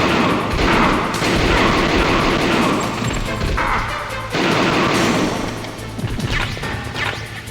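Loud, dense gunfire and crashing impacts from the stealth action video game Metal Gear Solid, sustained bursts with heavy booms throughout, under game music and effects.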